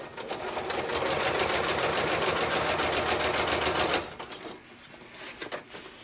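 A sewing machine stitches a seam on a Huxley bag, running fast and steady for about four seconds close up, then stopping, followed by quiet handling sounds.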